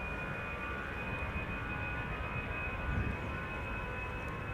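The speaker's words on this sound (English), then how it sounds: "Airbus A319 going to Glasgow" Airbus A319 jet departing Amsterdam Schiphol for Glasgow, a distant steady rumble with a faint high whine, holding at an even level throughout.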